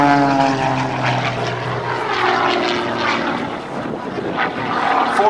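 Propeller engine of an Extra 300 aerobatic airplane at an airshow, rolling into a knife-edge climb low over the show line; a loud, steady droning roar with shifting pitch, continuous throughout.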